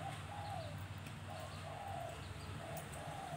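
A pet turtle dove coos in repeated soft, low phrases over a steady hum of background noise, each call a short rolling burst with brief pauses between.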